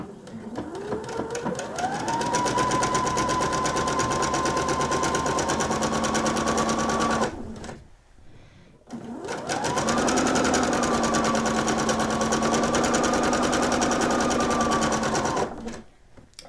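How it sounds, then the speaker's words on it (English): A sewing machine runs in two long, steady bursts with a whirring motor that ramps up and holds an even pitch, stay stitching a V neckline with a straight stitch, with a short pause between runs. "We're going to stay stitch the entire V neckline."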